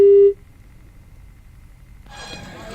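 A phone line drops and a loud, steady busy tone sounds briefly, then cuts off. Low background noise follows, and a voice comes in near the end.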